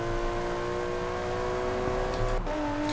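A Range Rover Velar SUV engine accelerating in the Forza Horizon 4 racing game, a close, loud, droning whine that climbs steadily, then briefly drops at a gear change before pulling again.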